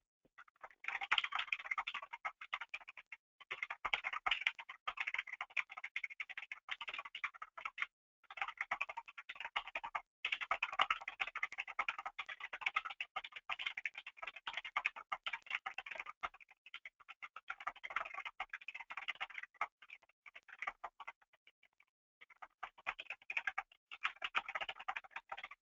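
Steady bursts of clicky keystrokes on a computer keyboard while an email is typed, close and fairly quiet, with brief pauses between runs of typing.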